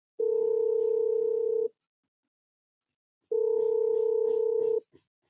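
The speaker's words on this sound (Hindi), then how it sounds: "ये कट गया फोन।" Two flat, steady telephone tone bursts after a call disconnects, each lasting over a second, separated by a pause of silence.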